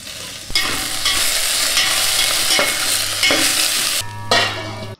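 Cumin seeds frying in hot oil in a pan on a stove give a loud, steady sizzle, broken by a few brief stirring scrapes and a sharp spattering surge near the end, with no talking.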